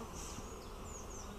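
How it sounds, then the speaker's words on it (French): Honeybees buzzing during a spring hive inspection, a steady dense drone of many bees with a few individual bees flying past close by, continuous and fairly quiet, with no talk. "des abeilles, des belles abeilles, riches"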